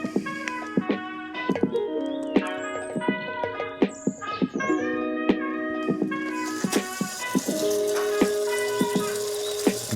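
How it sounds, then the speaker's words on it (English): Water pours into a motorcycle fuel tank holding bicarb of soda, filling the metal tank with a rising, ringing gurgle and splashing bursts that grow fuller and louder toward the end, with no voices. "just top it on up with water now"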